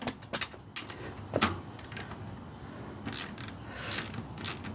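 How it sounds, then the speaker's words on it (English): Bolts are tightened on the back wheel of a mountain bike during a wheel bearing replacement. A handful of faint metallic clicks and ratcheting sounds are scattered over a low background hum. "Which in my case is just tightening up the bolts."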